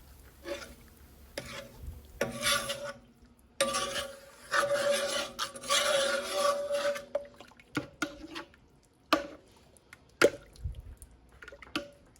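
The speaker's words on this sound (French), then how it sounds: "on se râpe du citron pour pouvoir utiliser le zeste" Lemon zest is grated in a kitchen, giving soft, close rasping scrapes in irregular bursts, with a longer stretch of continuous grating and occasional light knocks between strokes.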